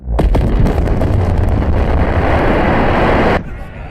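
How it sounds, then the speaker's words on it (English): An explosion in the anime film Saga of Tanya the Evil bursts loud and broad, roaring steadily for over three seconds before cutting off abruptly. "Beautiful explosion."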